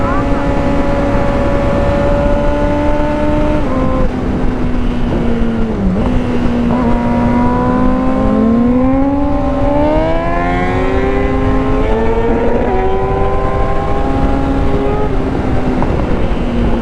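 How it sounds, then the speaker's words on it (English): A car drifts with its engine screaming and swooping in pitch as it slides through a corner at an Ozark event. The sound is loud, close and continuous, and excited voices are heard beneath it. "He started drifting."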